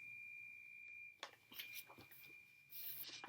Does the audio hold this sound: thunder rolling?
no